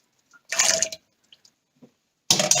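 Cold water splashing over cooked chickpeas being prepared for hummus: two loud bursts of splashing and pouring, separated by faint drips and small knocks in near silence.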